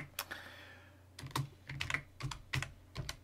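Fingers tap quickly on a computer keyboard while Python code is typed, giving quiet, close clicks in irregular bursts with short pauses between them.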